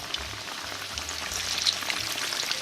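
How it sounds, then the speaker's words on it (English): Quesadillas frying in hot oil, a bright continuous crackling sizzle with dense spattering pops, close and steady throughout. "now I'm just gonna place our quesadillas into our frying oil"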